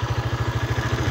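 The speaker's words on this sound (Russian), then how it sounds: "звук мотора" A Motoland ST250 motocross bike idles with a steady, loud, rapid pulsing thump and a bright mechanical clatter. No voices can be heard.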